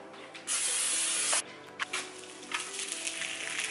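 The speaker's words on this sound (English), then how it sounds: "we're gonna add some cooking spray and then a tortilla" A sharp hiss of cooking spray bursts into a pan for about a second, followed by a quieter sizzling and light clatter as a tortilla is added.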